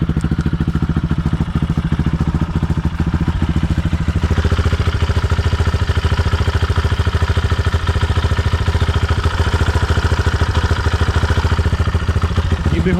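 A Barton NXT 250 motorcycle engine idles steadily after its first start, a loud, close, rapid mechanical clatter with a constant rhythm that picks up slightly in intensity partway through.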